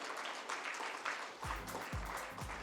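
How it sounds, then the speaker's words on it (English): Audience applause fills the hall at an awards ceremony, a dense continuous clapping wash with a few low thumps underneath, fairly distant and steady throughout. "Ladies and gentlemen, can we have a huge round of applause?"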